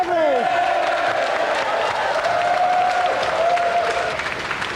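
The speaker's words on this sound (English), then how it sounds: "And a round of applause again for our champion, John Beverly." A game-show studio audience gives a steady burst of applause for a champion, with clapping sustained for several seconds under a faint tonal sound.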